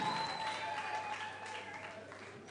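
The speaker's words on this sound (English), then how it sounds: "So let's give the trust a great round of applause" Audience applause for a memorial trust at a secondary school morning assembly, a short, fairly faint patter of clapping that tapers off steadily.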